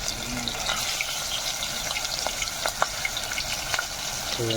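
Fish frying in hot oil for an Assamese fish and tomato curry, giving a steady close sizzle with scattered small pops and crackles and no talking.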